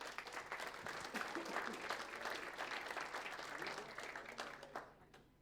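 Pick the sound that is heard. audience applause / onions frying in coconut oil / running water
audience applause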